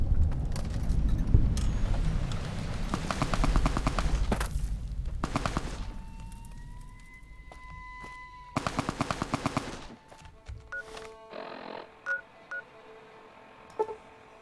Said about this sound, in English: They're shooting at her.